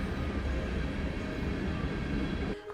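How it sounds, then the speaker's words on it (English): A train rolls past just beyond a creek near an RV park, a continuous low rumble with a steady mechanical drone, heard fairly close, fading abruptly near the end. "It's the train that lulled us to sleep just beyond the creek."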